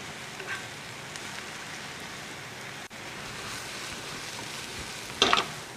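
Mushrooms frying in a pan of rice bran oil and butter give a steady, close sizzle with soft stirring, and a brief louder crackle comes near the end.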